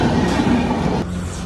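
Rumble and rattle of a train running past a railway level crossing, close and loud throughout, with a steady rolling rhythm and no voices.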